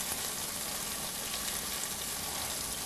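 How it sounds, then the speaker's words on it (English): Teriyaki chicken stirred with a spatula in a hot pan among frying peppers and onions, a steady close sizzle throughout with no talking. "I'm just going to use the spatula to kind of just stir that around a little bit"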